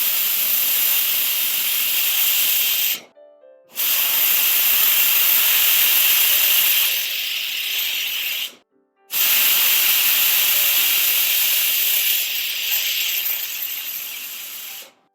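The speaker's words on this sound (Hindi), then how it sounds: "अब ढक्कन लगाकर इसे 3 सीटियां होने तक पकाना है।" Pressure cooker of sweet pongal letting off loud, continuous steam hiss, broken by two brief pauses, with no whistle tone clearly heard.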